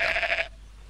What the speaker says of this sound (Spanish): Oveja, ven.